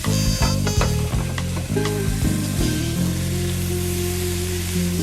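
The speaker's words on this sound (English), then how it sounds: "They're already dancing in the pan here. You can hear them." Vegetables crackle and sizzle loudly in a hot pan, with a dense, steady spatter and several clattering stirs early on before the frying settles into an even hiss.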